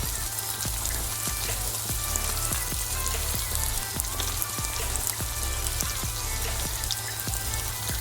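Steady, dense sizzling of bitter gourd frying on low heat in a thick-bottomed pan, crackling continuously with fine popping throughout.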